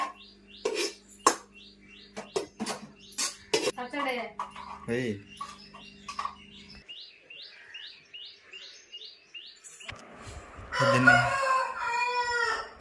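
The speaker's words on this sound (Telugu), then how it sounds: "అబ్బా ఈ కోడి అరిచనే ఉంటుంది" A rooster crows loudly and close by near the end, after a stretch of scattered clicks, knocks and small bird chirps.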